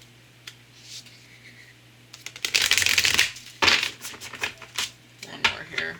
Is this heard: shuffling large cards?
yes